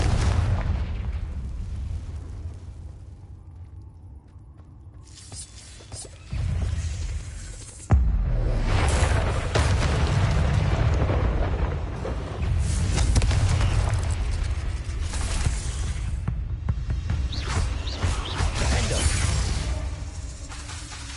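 Spell explosions from the Confringo curse in Hogwarts Legacy, a game: a quiet stretch gives way to a sharp blast near eight seconds, followed by sustained loud booming, crackling bursts and rumbling debris.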